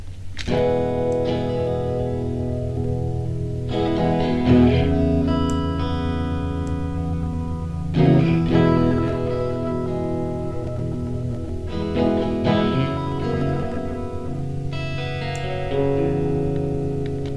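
A sustained electronic tone played through heavy reverb, its sound swelling and smearing across a wide room, with new chords entering every few seconds.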